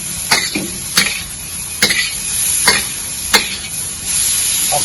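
Bean sprouts fast-fried and tossed in a hot wok with Thai sauce, a steady sizzle broken by sharp scraping stirs roughly every second, close and fairly loud.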